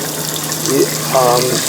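Water runs steadily from a tap fed by an on-demand water heater in a 2025 Sol Horizon, a continuous rushing flow with a low hum and a couple of brief tonal squeaks.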